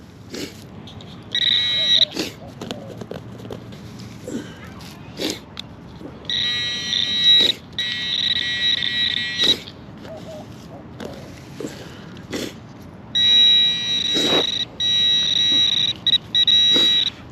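A metal detector's high electronic tone, signaling a penny, sounds in several sustained bursts at a playground tot lot, interrupted by thumps and scraping of digging in soil.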